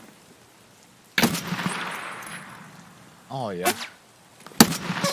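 Sharp gunshots in the video game Escape From Tarkov crack out in two bursts, loud and close, with a brief spoken exclamation between them over quiet ambient background.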